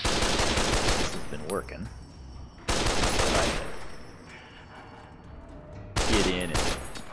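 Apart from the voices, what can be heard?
gunfire in video game Fallout New Vegas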